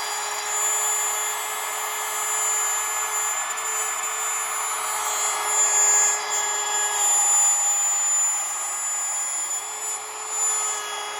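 A power drill whines steadily and continuously, a high electric motor tone with slight variations as it bores, with no voices.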